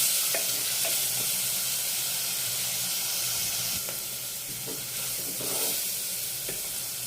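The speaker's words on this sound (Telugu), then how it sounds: "ఆనియన్స్ ఫ్రై అయిపోయినాయి" Onions fry in a clay pot for mutton gravy curry, a continuous close sizzle broken by several scraping stirs of a spoon against the pot.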